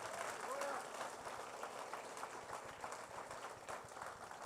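A church congregation applauds Jesus during a worship service, with a steady wash of many hands clapping that carries on throughout, sounding faint and distant.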